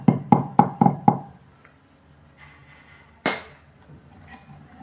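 Alum is pounded into powder in a mortar and pestle: five sharp, evenly spaced strikes ring out close by in quick succession, then a pause, one more hard knock and a faint clink.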